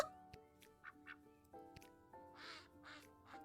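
Cartoonish duck quacks from the video game Lil Guardsman, several short bursts scattered over a steady tonal music bed, moderately loud and close, with no talking.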